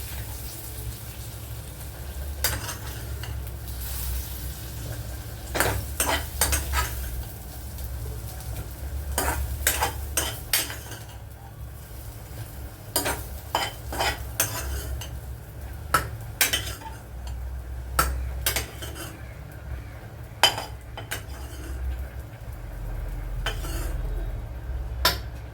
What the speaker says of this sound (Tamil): கிண்டி விட்டுறலாம்.